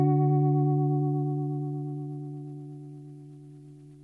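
An electric guitar played in Logic through compressor and vibrato pedals for a sungura tone rings out as one clear sustained note that slowly fades, quiet and alone.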